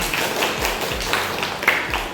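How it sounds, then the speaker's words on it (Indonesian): A classroom of students studying Quran recitation claps together, a moderate, steady patter of hands with a few sharper taps and little talk. "Tepuk tangan buat kita."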